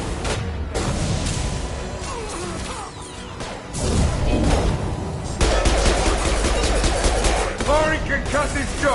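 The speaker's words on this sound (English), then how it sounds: "Firing concussive shot." A concussive shot ability firing amid gunfire in Mass Effect 2: loud, dense bursts of rapid shots and impacts with heavy booms and whooshes, and brief voices in the middle of the battle.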